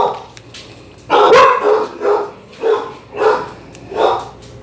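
A dog barks five times in a steady series of sharp, loud barks close by, indoors, with a faint voice in the background.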